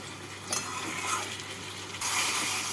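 Ridge gourd and potato being stirred with spices in a pan for a rohu fish curry: a steady low sizzle with scraping spoon strokes, one near the start and a louder, brighter frying burst near the end.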